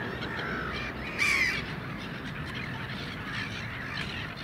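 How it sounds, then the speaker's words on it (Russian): Black-headed gulls flocking to thrown bread, a dense chorus of harsh overlapping calls over steady outdoor background noise, with one louder nearby squawk standing out briefly. "Здесь такие чайки, я сейчас говорил Серёге по телефону."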